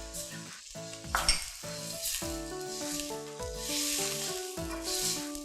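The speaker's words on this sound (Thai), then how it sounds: "พอพริกแกงกับกะทินะคะเริ่มแตกมันค่ะก็ใส่หมูลงไปเลยค่ะ" Pork sizzles in a wok of frying Thai curry paste and coconut cream, a steady crackling hiss under repeated scraping and stirring strokes, close and continuous.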